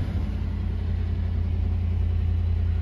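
A 1993 Cadillac Fleetwood Brougham engine idles steadily on a very cold day, a close, continuous low rumble that holds an even level throughout.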